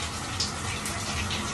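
Steady broadband rush of running water, like a shower spraying continuously, close and fairly loud with no voices.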